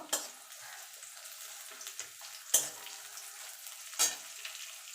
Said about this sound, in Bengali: পেঁয়াজটাও একটুখানি ভাজা ভাজা করে নেব